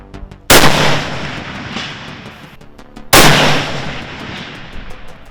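A long range sniper rifle fires two loud, sharp shots about two and a half seconds apart at a distant steel target, each blast trailing off in a long rolling echo across open ground.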